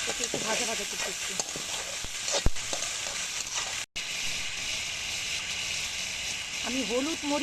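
Garlic paste and fenugreek frying in a hot pan give a steady, loud, crackling sizzle throughout, with a sharp tap partway through and a brief dropout. A voice talks over the start and again near the end.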